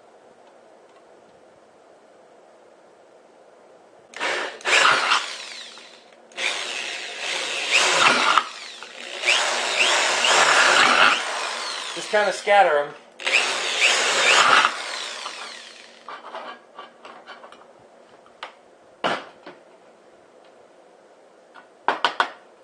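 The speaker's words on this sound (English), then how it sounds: "We're just going to drill a bunch of holes in the bottom of this." A power drill bores a series of holes into the bottom of a steel tuna can for a rocket stove air inlet, with several loud whining bursts separated by pauses and clicks, and a brief remark from a man.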